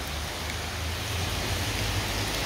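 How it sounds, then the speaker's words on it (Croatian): Steady rain falls beside the Vrbas river, a dense, even hiss of drops on water and ground close by, continuous throughout with no voices. "Ali nije nego što pada kiša"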